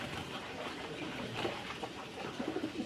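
Domestic pigeons coo softly while being bathed, a few faint low calls over a quiet background.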